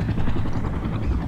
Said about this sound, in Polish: Ja tutaj używam obecnie śmigłowców Mi-24